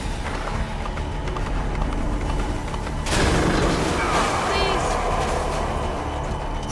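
Heavy gunfire and a booming blast in Metal Gear Solid V: The Phantom Pain, a dense rumbling barrage that swells partway through and continues loud behind the game's soundtrack.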